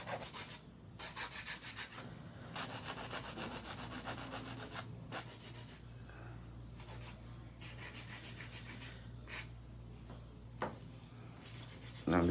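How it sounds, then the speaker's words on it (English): Hand filing of acrylic nails with a nail file: steady, continuous close-up rasping strokes that run almost unbroken, with a few short pauses and a louder knock near the end, no talking. "Now I'm just gonna do a little bit of hand filing."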